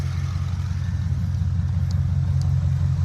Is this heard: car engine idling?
yes